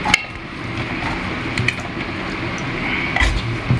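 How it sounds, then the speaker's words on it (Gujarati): Millet flour dough with spice being kneaded and pressed by wet hands in a home kitchen, giving soft squishy, sticky squelches in a steady rhythm, close up, with occasional light clinks of a bowl. "આપણે બાજરીનો લોટ મસળી ને એવી રીતે મસળવાનો."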